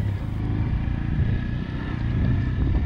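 Motorcycle engine droning steadily while riding along a reservoir edge in jungle country, a continuous close low rumble with light clatter and no talk.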